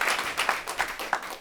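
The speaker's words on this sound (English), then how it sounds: "Give that a round of applause, everyone." A handful of people clap briefly and lightly during a climate conversation, a sparse, uneven patter of separate claps at moderate distance.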